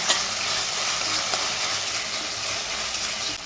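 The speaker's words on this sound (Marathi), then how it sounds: "आता याच्यामध्ये मस्त आलं लसणाची पेस्ट घालायची." Ginger garlic paste hits a hot pan and sizzles with a loud, steady hiss, and a stirring sound shows near the start. The frying stays even over the few seconds and nobody speaks.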